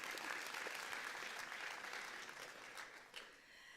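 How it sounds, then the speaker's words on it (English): Audience applause at a spring high school signing day ceremony, a steady dense clapping crowd sustained throughout and tapering slightly toward the end. "You can clap."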